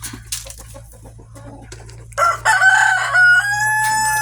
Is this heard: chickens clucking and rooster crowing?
yes